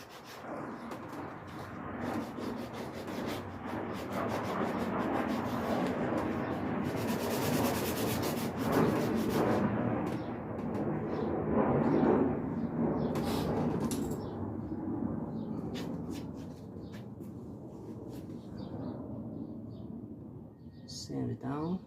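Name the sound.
sanding wood by hand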